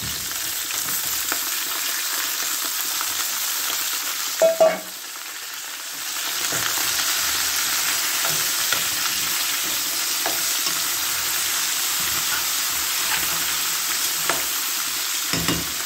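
Steady, close sizzling of onions frying in a pan, with a few stirring clatters around the fifth second and the sizzle continuing evenly throughout, no talking.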